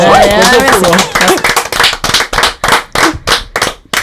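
An audience breaks into applause, starting under a voice and building into a steady wash of clapping that continues in pulsing bursts.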